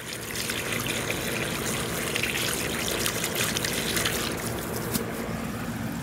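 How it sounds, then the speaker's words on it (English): Garden hose water runs steadily over a 3D printed compost shredder during a rinse, a continuous close splashing trickle and gush that holds at an even level throughout with no talking. "Then I'm going to put the hose down, back up here, kind of rotate a little bit. More hose water in here. Just really try to rinse it all out."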